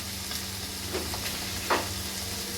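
Stuffed pointed gourd fries quietly in a pan with a soft, steady sizzle and a couple of faint scraping taps.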